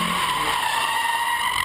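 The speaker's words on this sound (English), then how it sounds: "This is my first dedicated drift car." A dedicated drift car sliding at a Kentucky drift event, its tires squealing in one continuous, loud, high-pitched screech that holds steady throughout, with engine roar beneath.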